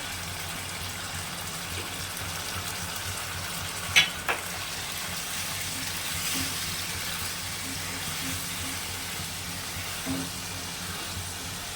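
Mushrooms frying in a pan with salt and Kashmiri chilli, a steady soft sizzle with a couple of sharp clinks of a spoon near the start, no talking.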